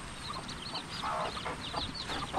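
A group of chicks chirps continuously at close range, with high, overlapping peeps forming a dense, busy chorus that stays steady and fairly loud, without any talk.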